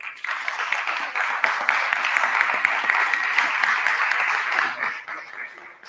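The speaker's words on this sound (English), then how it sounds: "a better round of applause" Applause from the audience at an annual general meeting fills the room, many hands clapping densely and steadily for several seconds before tapering off near the end.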